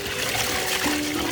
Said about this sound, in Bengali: চালটাকে এবার আমরা খুব সুন্দরভাবে ধুয়ে নেব।